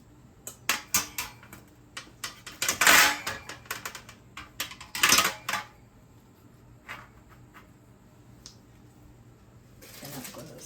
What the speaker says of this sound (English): I've got my baking pan, and I'm going to put a rack on it